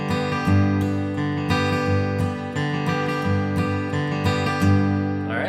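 Acoustic guitar in a flatpicked boom-chuck pattern: strong alternating bass notes answered by short chord strums, steady and close, with no voices.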